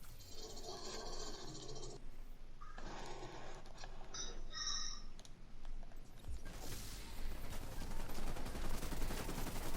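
Rapid automatic turret fire in The Division 2, a dense rattling barrage of shots that swells louder toward the end under a busy game soundscape.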